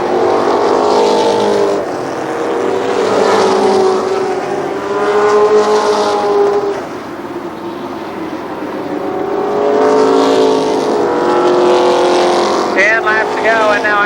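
Race cars roar around Columbus Motor Speedway during the 1995 Nuckles Memorial, loud engines swelling and fading as the pack passes, under continuous announcer commentary.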